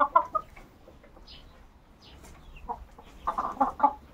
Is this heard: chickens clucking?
yes